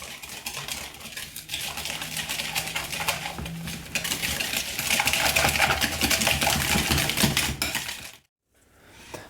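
Spoon stirring cake batter in a mug, a quick run of close clinking and scraping taps against the ceramic, steady for several seconds before stopping abruptly.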